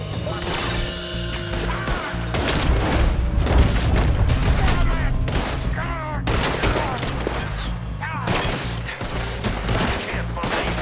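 A shootout in the video game Red Dead Redemption 2, with dense, overlapping gunfire, rapid sharp cracks and booming reports in fast irregular bursts, loud and close throughout, while voices shout now and then under the shots.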